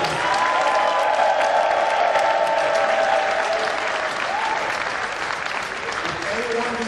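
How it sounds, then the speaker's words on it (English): Loud, sustained applause and cheering from a large audience at a SLOSAANA gathering, dense clapping with shouts and whistles swelling early and holding steady, voices murmuring underneath. "let us give them another round of applause and make some noise."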